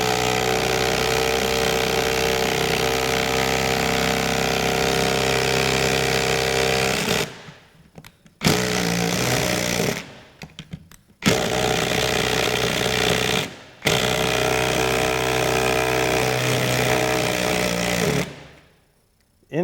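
Ryobi HP 18V brushless compact impact driver hammering hard in long loud bursts of rapid rattling impacts, stopping briefly between runs, close up with no talking.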